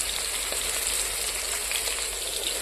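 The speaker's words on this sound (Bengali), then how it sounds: "এই যে মাছটা ভাজার জন্য আমি বসিয়ে দিয়েছি" Hilsa fish frying in a pan gives a dense, even sizzle that holds steady and close throughout, with no speech.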